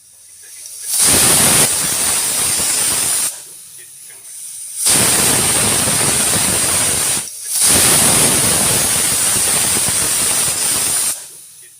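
A pressure cooker full of moong dal blasts three long, loud steam whistles, each a harsh hissing roar of a few seconds, separated by brief quieter pauses.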